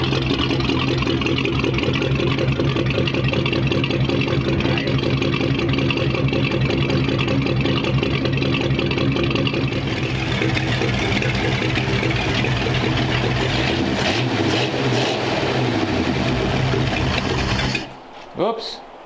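A flathead V8 engine idles with a steady mechanical chatter, then its revs climb and fall as the throttle is pushed, loud and close, before cutting off near the end; voices talk faintly nearby.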